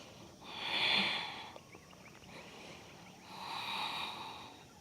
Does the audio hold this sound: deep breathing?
yes